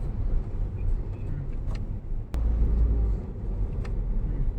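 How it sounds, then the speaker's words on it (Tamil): A Ford EcoSport in fourth gear gives off a steady low engine and road rumble from inside the cabin, with a brief thump midway and no talking. "இப்போ ஃபோர்த் கியர் போட்டு மூவ் பண்ணுறேன்."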